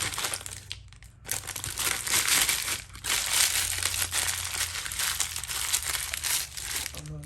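A plastic bag crinkles and rustles continuously as a sandblasted crank trigger gear for a Toyota 5VZ 3.4 engine swap is slid into it, loud and close, with brief pauses and a voice speaking over it.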